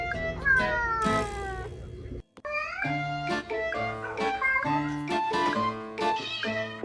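A cat during a bath meows and caterwauls repeatedly, with long, drawn-out, rising and falling yowls close to the microphone and a brief pause midway.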